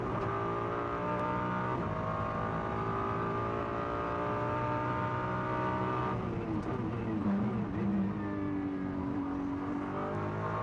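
A GT race car at the Macau Grand Prix qualifier drops down through the gears for the Melco hairpin and then accelerates hard, its engine note rising steadily and loudly through the gears from close by.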